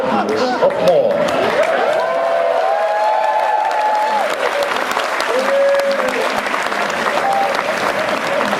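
Thunderous audience applause with cheering fills a magic stage show after a tongue-skewering illusion, a dense, steady roar of clapping lasting the whole stretch with voices mixed in.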